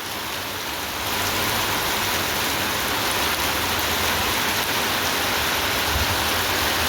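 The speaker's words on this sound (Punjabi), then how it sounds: "ਬਹੁਤ ਜ਼ਿਆਦਾ ਮੀਂਹ ਪੈ ਰਿਹਾ ਦੇਖੋ ਕਿੰਨਾ ਮੀਂਹ ਪੈ ਰਿਹਾਗਾ" Heavy rain pours down on a village in a steady, dense roar that stays loud and unbroken throughout, with no voices.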